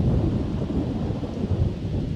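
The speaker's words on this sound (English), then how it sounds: "I had no idea thunderstorms like this were even possible in the middle of a dry desert." A thunderstorm in The Sims over the StrangerVille desert: deep, continuous rumbling thunder with rain noise spread evenly throughout, loud and without speech.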